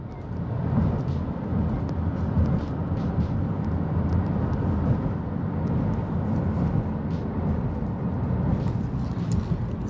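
A car cruising along the BQE highway in New York, with a continuous loud low road and engine rumble and wind noise that stays steady throughout, with no voices.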